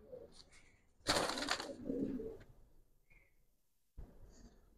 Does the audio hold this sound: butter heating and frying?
no